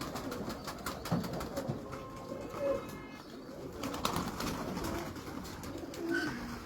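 Pigeons cooing in a loft: soft, low repeated coos at moderate distance over a faint background of rustling and clicks, with no voices.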